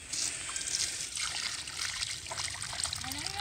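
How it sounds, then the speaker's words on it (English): Water trickling and splashing onto soil while watering freshly transplanted blackberry plants outdoors, a continuous close pouring stream at steady volume. "we are still going to water this thing"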